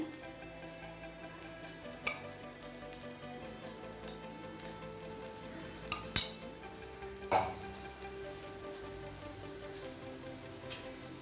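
A toor dal dosa cooks in oil on a pan with a faint, steady sizzle, broken by a few sharp clinks of a utensil against the pan.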